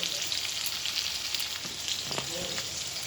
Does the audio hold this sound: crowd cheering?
no